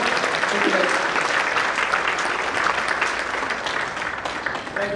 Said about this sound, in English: Have a great applause for all the women here.